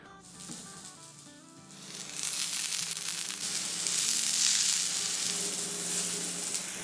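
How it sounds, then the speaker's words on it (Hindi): Whole chicken sausages sizzle on an oiled, very hot grill, a loud hissing crackle that swells after a quieter start and holds steady, close up with no talking. "तो चले थोड़ा सा ऑयल करते हैं और कुछ सॉसेजेस को होल ही ग्रिल करते हैं।"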